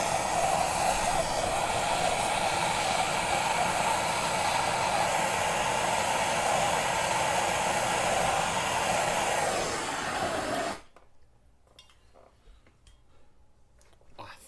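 A heat gun blasts hot air onto a dented two-stroke exhaust pipe from a 2021 Beta 300 RR Racing dirt bike, a loud steady roar running for about ten seconds before cutting off abruptly, leaving only faint room noise.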